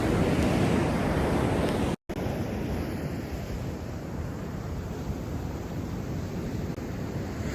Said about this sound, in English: I'm coming up right on the edge of the ocean here.